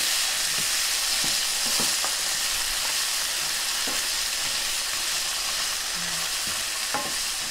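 Chickpeas and garbanzo beans sizzle steadily in a pan over lowered heat for pasta with chickpeas, a broad constant hiss broken by scattered spoon scrapes and taps from stirring, close and alone with no talk.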